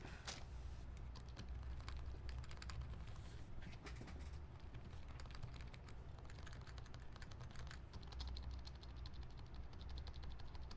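Fast, irregular typing on a mechanical keyboard with a loose, rattly enter key, the keystrokes clacking close and steady throughout with no speech over them.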